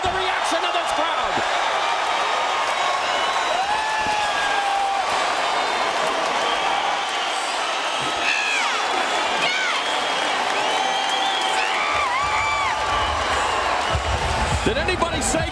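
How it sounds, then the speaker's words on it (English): An arena crowd at a 2007 Strikeforce MMA event in San Jose's HP Pavilion roaring and cheering after a knockdown, a loud sustained wall of voices and whistles with a commentator talking over it. "Listen to the reaction of this crowd"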